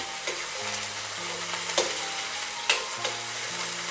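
Flathead fish frying in a hot wok for a stir fry, a steady close sizzle and crackle with occasional spatters, while faint tonal hums run underneath and no one talks.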